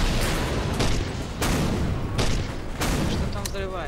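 In the Garry's Mod sandbox game, several heavy explosions and bursts of gunfire sound in close, loud succession, filling the scene with dense booms and crackle.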